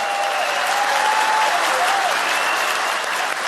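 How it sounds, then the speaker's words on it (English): Sustained applause from an audience at a political Q&A with the Vice President, a dense, even clapping that fills the room for a few seconds without pause. "would you give all of them a round of applause?"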